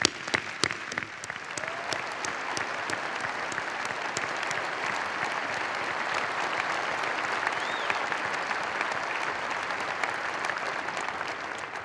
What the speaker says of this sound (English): let's give them wonderful applause